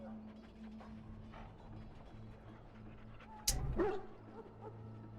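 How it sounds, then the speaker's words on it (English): A Mabari war hound in Dragon Age: Origins gives a single sharp bark and yelp partway through. A faint, steady game hum and quiet mechanical sounds play around it. "A trained Mabari hound is as dangerous as any sword."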